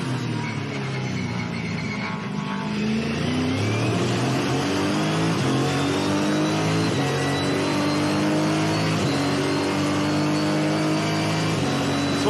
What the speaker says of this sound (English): let's just have a listen to Lee Stibbs and the Hi-Tec Oils Innovation Race Car